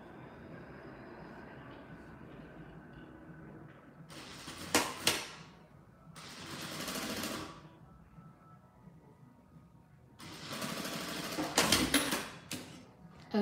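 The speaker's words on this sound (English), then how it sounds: "sewing this really close to the edge" A sewing machine stitches a fabric squeeze pouch close to the edge in three separate close bursts of fast whirring, with quiet pauses in between.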